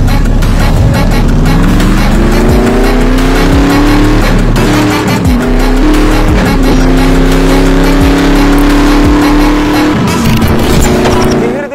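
A Ford Mustang engine roars loud and steady with rising and falling revs, shifting through gears as the car drives close by, with tire noise throughout.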